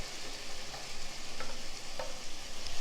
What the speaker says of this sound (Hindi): अब मैं इसमें टमाटर डालूँगी